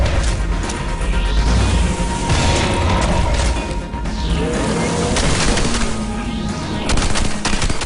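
Rapid, continuous automatic gunfire and heavy booms while shooting aliens in the Red Faction Armageddon video game on PlayStation 3, loud and dense throughout with no pause.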